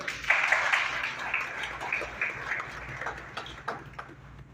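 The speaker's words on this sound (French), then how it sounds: "Je vous demande de l'applaudir." Audience applause at a youth government investiture ceremony in Haiti, moderate, steady clapping from a hall crowd lasting several seconds, with faint voices mixed in.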